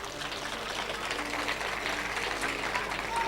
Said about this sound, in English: I think you should give Eileen a big round of applause as well.